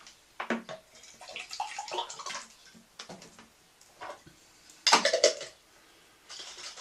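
Water added by hand into a honey pot while making mead, heard as a few short irregular splashes and pours close by, with a louder gush near the end and no talking.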